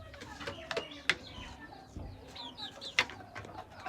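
Native village chickens in a small coop housing about thirty birds give short scattered clucks and calls, fairly faint, with a quiet background between them.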